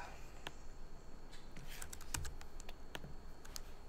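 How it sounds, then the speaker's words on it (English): A computer keyboard typed at a modest pace of about 50 words a minute during a class, producing scattered light key clicks close by, uneven in rhythm, over a steady room hum with no talking. "But bad for students watching me type."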